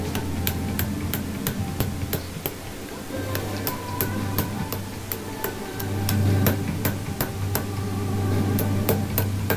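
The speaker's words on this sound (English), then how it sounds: "Somewhere in here I decided I need a bigger hammer." A bigger hammer striking a metal cross being folded, sharp ringing blows repeated in quick regular bursts, loud and close, with brief pauses between runs of strikes.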